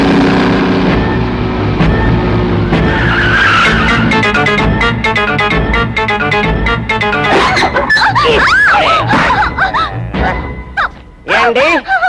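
Tires screech as a car skids hard in a Tamil film action scene, loud and sustained over music and dramatic sound effects, with sharp squeals rising toward the end.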